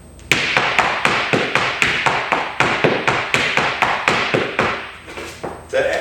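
Flamenco heel work in a repeating six-sound footwork pattern: a steady run of sharp, close heel and foot strikes on a hard floor, evenly spaced at about three per second, with no talking.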